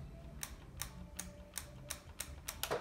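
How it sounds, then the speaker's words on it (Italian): A button on a Sades PS4 elite-style controller clicks seven times in a steady rhythm, each press a sharp, close tick over a quiet background hum. "questo click click che si sente, che invece R1 non fa"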